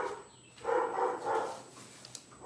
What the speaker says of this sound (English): Maybe it'll help drown out some of that dog barking.